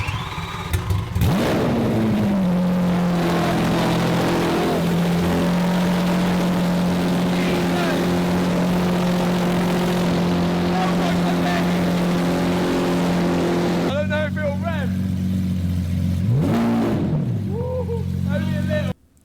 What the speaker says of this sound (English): I want to see what it sounds like with no exhaust on at all. V12 screaming out the back.